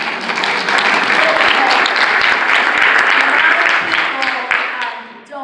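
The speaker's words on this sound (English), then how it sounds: "let's give a round of applause" A crowd claps and cheers in a sustained burst of applause that fades slightly toward the end.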